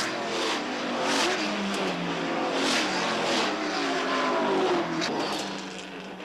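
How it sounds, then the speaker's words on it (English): Trans-Am race cars at Trois-Rivières in 1984 run wheel to wheel, a loud continuous blend of engines rising and falling as several cars pass close by, with brief tire squeal. "Lots of cars racing wheel to wheel."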